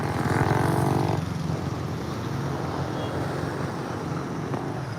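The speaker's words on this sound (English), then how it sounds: "It's like someone with a motorboat engine on their bike." Motorbike engine with a buzzy, chugging drone like a motorboat outboard, loud and close at first, then fading into steady traffic and wind rumble outdoors in Cambodia.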